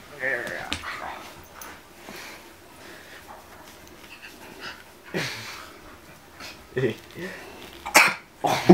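A dog coughs and gags in harsh, irregular bursts nearby, with panting between fits and people talking in the background.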